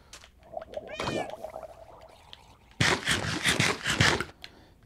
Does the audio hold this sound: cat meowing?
yes